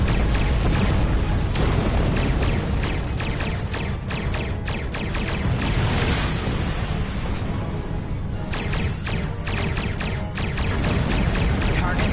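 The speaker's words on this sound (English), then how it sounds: "Use your torpedoes on an enemy target. Their shield is down. Target destroyed." Torpedo strikes on an enemy ship in Star Trek Online, a dense loud barrage of booming impacts and sharp bursts over continuous battle noise.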